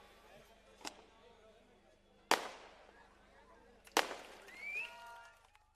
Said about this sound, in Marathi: फटाके वाजवणं थांबवा